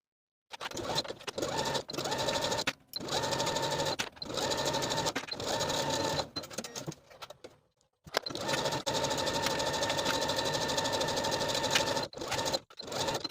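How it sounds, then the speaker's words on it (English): A sewing machine stitches a knit fabric belt for a column dress in long, loud mechanical bursts, pausing briefly between seams and pivots, with no voices over the whirring. "sewing that end closed and then pivoting along the long edge, sewing all the way across and sewing the opposite short edge as well."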